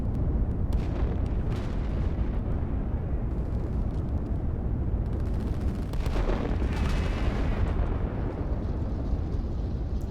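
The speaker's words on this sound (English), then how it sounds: "Some nice fireworks as the tanks line up to take them out." Rockets and fireworks explode in a real-time strategy video game battle with tanks, producing a dense, continuous rumble of booms and cracking bursts, loud and relentless, with brief fizzing whistles late on.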